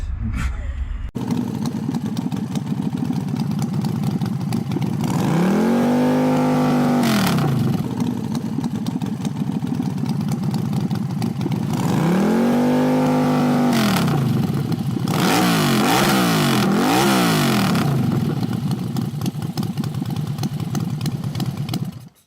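A 1983 Chevrolet Diplomata in rat-look style idles with a loud, steady rumble up close, rising twice into long revs that swell and fall, then a quick burst of sharp blips near the end.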